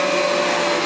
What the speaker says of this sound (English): turn the vacuum back on